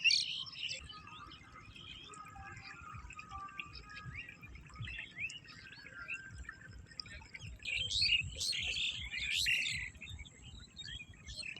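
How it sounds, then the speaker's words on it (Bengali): A myna calls in a quiet village by a wetland, with faint scattered chirps and brief tweets that grow busier toward the end over a low rustling background. "এটির বলা হয় আপনার শালিক পাখি।"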